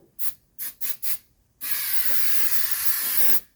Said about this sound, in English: basically spray it in the same spots the factory did.